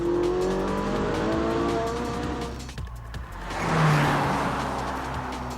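A Ferrari 458 Spider engine roars loudly nearby with the roof off, droning steadily, dipping briefly, then surging as it revs up again with a rising growl.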